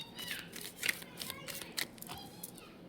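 Tarot cards being shuffled by hand, soft papery riffles and flicks in a quiet room, faint and close with small gaps between handfuls.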